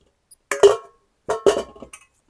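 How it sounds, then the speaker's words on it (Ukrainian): Two brief metallic-glassy clinks about a second apart, followed by a lighter tap, close by in a quiet room, as steamed lids are placed on jars of fermenting cucumbers. "Накриваємо вже пропарними кришками,"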